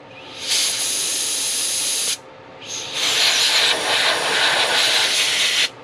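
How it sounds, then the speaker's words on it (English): Compressed air hisses steadily through a Jiffy ice auger carburetor to push out dirty cleaner, in two sustained bursts with a short pause between, the second longer and slightly louder. "And just be careful with this compressed air. I'm just lightly pressing on it. Push out any of that dirty cleaner in there."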